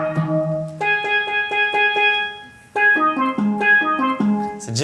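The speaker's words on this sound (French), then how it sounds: "c'est pas du tout prévu, mais c'est un son de steel drum." Steel drum synth sound playing a bright, bell-like melodic phrase of short repeated plucked notes, two runs separated by a brief pause, clean and alone.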